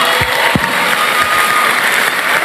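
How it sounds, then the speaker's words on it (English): An audience at a masterclass gathering claps briefly, a loud, diffuse patter of many hands filling the room for a couple of seconds. "I thought you would clap."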